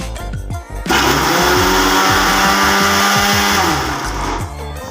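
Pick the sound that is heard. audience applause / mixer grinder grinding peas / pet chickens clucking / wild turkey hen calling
mixer grinder grinding peas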